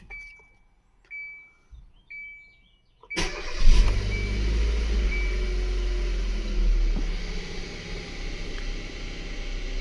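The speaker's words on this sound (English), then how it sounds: "Now we're gonna start the car and test the pressure." A Kia Soul engine cranks and catches, settling into a steady idle hum that runs on evenly after a few quiet electronic beeps, heard close during an oil pressure test after an oil change.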